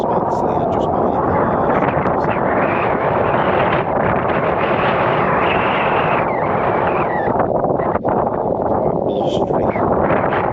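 Blustery wind on the West Highland Way trail in Scotland in March buffets the microphone with a loud, constant roar and rumble that persists throughout.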